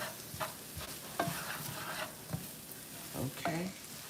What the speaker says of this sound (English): we're going to just stir all of this together